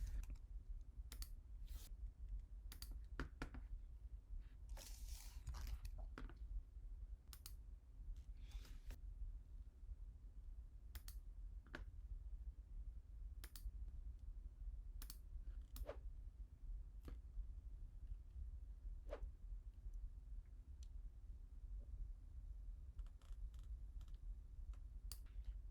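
Keys are pressed and a mouse is clicked while working in Adobe Illustrator. Sparse, sharp clicks come at irregular intervals over a low, constant hum, with one short flurry of taps partway through.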